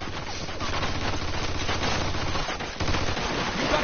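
Sustained automatic machine gun fire in the video game Mafia II, a dense continuous rattle of rapid shots with a brief break near the end before resuming, loud and close.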